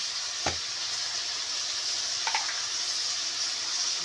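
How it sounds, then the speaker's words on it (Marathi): Ridge gourd is stirred in hot oil, giving a steady hiss of frying with a couple of faint utensil scrapes, close and continuous with no talk. "त्याच्यानंतर ते व्यवस्थित आपल्या तेलामध्ये हलवून घ्यायचं आहे सर्व"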